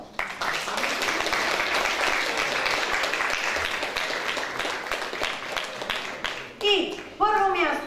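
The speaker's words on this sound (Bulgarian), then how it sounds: "Аплодисменти за второ място Йордан Апостолов." An audience applauds a second-place winner at a school sports awards ceremony with steady, dense clapping throughout, fading near the end as a voice briefly speaks over it.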